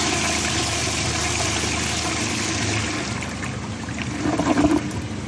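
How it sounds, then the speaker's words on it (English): A 1936 Bowers pottery high tank toilet flushes, water rushing steadily from the overhead tank and swelling into a louder gurgling surge near the end. "Now let's flush the Bowers pottery."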